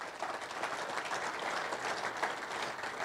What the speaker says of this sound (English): Big round of applause for Jason.